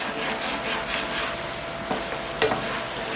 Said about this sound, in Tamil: இஞ்சி பூண்டு பேஸ்ட் பச்சை ஸ்மெல் போகிற வரையும் நல்லா கிண்டிக்கலாம்